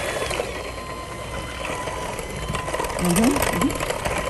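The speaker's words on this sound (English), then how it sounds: "I'm going to use the beater" An electric beater whirs steadily as it mixes zucchini bread batter, a loud continuous motor drone throughout, with a person's voice briefly heard over it near the end.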